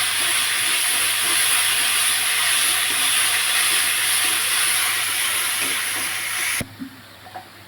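Onions fry in a pan as crispy potato balls are being prepared, a loud, continuous close hiss that cuts off abruptly near the end, leaving a couple of light knocks.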